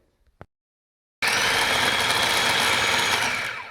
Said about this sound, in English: I'm going to start pulsing, and what you want it like a coarse sand.